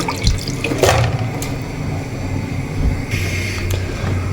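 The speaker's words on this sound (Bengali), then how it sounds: "বন্ধুরা এই যে দেখেন আমার গরু গোস্ত ধোয়া শেষ" Raw beef being rinsed with water in a kitchen, a steady splashing and running-water wash with brief louder sloshes, close and fairly loud throughout.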